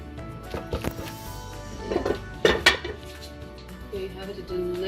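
A spoon scrapes and clinks against a pot while beef shank gravy with whole garlic and pepper is ladled around, making a few close metallic knocks and taps with soft sloshing between them.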